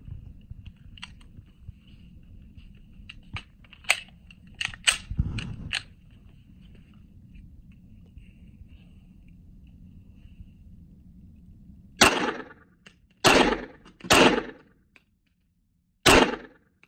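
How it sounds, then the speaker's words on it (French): Sharp 9 mm gunshots from jacketed and Speer Gold Dot rounds striking a No Casualty bulletproof vest: a scatter of smaller cracks early on, then four loud, close reports spaced a second or so apart near the end. "Donc pour le 9 mm, on va tester avec des cartouches chemisées et 2 cartouches en gold dot de Speer"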